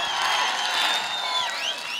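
Audience applause and cheering for the singer at the Pakistan Literature Festival in Quetta, a dense wash of clapping from a large crowd, loud and sustained for the whole stretch.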